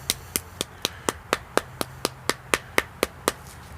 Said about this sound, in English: you can hear the difference of the loose foil compared to the tight foil